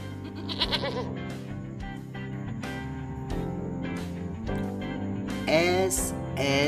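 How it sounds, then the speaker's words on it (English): Over light background music, a goat lets out a few bleats, with a louder, wavering bleat near the end. "GOAT,"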